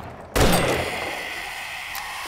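A single loud rifle shot in the video game 7 Days to Die, a sharp close crack followed by a lingering decaying tail.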